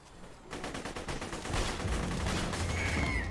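Rapid gunfire in the video game Borderlands 2, a dense fusillade of sharp repeated shots that starts after a brief pause and builds into a loud continuous burst.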